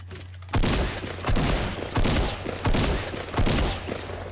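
Green shotgun fired repeatedly in a video game, five loud, booming blasts spaced roughly evenly about three-quarters of a second apart, each with a short decaying tail.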